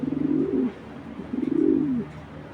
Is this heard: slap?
no